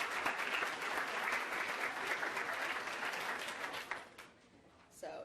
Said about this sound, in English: Let's have a round of applause for our boys and girls cross country.